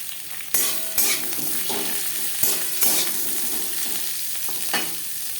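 Onions frying in a pan for butter chicken, a steady close sizzle under repeated stirring, with several sharp knocks and scrapes of the spatula against the pan.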